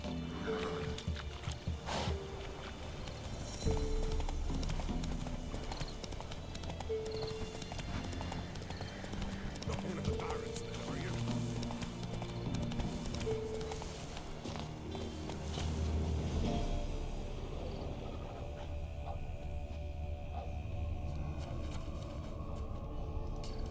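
The horse Roach in The Witcher 3 moves along with rhythmic hoofbeat clip-clops, steady and moderately close, over a soft ambient game background.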